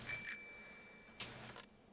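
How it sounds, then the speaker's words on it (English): Bicycle bell in the video game Generation Zero, rung twice: a bright metallic ring that slowly decays, then a second shorter ring, alone with no voices. "do you hear the bell?"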